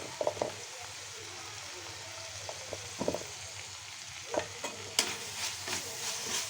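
Broad bean and tomato curry sizzles gently in a pan as chili powder is stirred in, a low steady hiss broken by scattered scraping stir strokes, close and fairly quiet.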